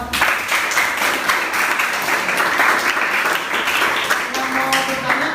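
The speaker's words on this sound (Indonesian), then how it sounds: "Tepuk tangan untuk kelompok 6." Students in a classroom give lively applause for a student group after a presentation on motor starter testing: dense clapping that stays strong for several seconds.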